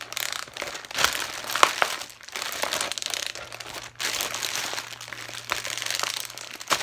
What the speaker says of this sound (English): And so I drop my wine bottle in the Ziploc bag.